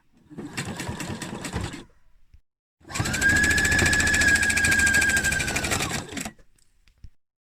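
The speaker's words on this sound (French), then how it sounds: "on va coudre la pince jusqu'au faux fil. Donc en point droit et jusqu'au faux fil." A domestic sewing machine stitches a dart in straight stitch, first in a short run of rapid rhythmic whirring, then, after a pause, in a longer steady burst of about three seconds, loud and close.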